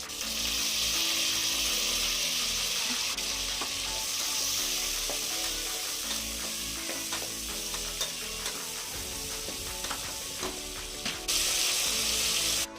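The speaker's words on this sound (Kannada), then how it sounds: "ಈರುಳ್ಳಿ ಟೊಮೆಟೊ 2 ಚೆನ್ನಾಗಿ ಫ್ರೈ ಆಗಬೇಕು." Onions and tomatoes frying in a pan for mutton biryani, a continuous loud sizzle with scraping stirs and light watery crackle throughout, no talking.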